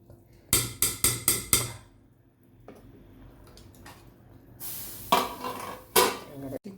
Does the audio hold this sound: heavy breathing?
no